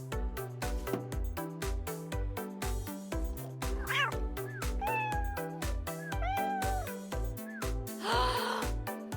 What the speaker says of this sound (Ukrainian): Поганий котик.